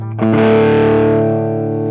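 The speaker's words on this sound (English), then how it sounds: "If you attack it soft, this is like a crunch sound. This is soft and half volume." An electric guitar with soft crunch distortion is struck gently once at about half volume, and a warm, lightly overdriven chord rings out and sustains evenly with a slow fade, with no other sounds.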